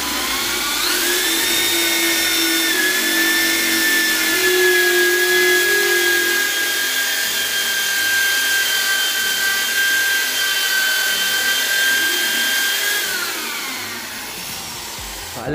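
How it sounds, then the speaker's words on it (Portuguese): A steady, high-pitched electric drill whine in drill mode, not hammer mode, runs nearly continuously, loud and close, with a faint grinding texture underneath before it winds down near the end. "é no modo furadeira, tá? Ó, furadeira. Não é no modo martelete"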